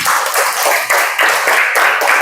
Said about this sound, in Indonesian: Kasih tepuk tangan buat Depa.